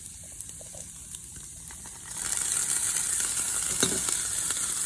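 Beef carne hitting a hot pan for birria de res, a quiet background that suddenly erupts into loud, steady crackling sizzle with faint clinks of utensils.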